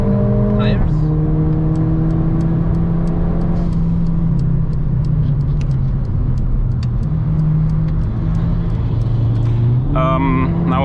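Nissan GT-R closing in and passing on the Nürburgring, its engine note rising under a loud, steady cabin drone from a hot hatch with talk throughout.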